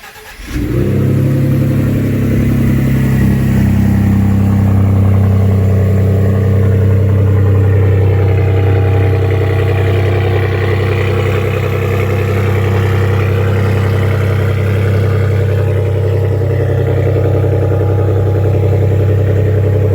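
A 2019 Ford F150 2.7 with an AWE dual cat-back exhaust and SPD downpipes cold-starts with a quick crank, then settles into a loud, deep, steady idle rumble close by for the rest of the clip.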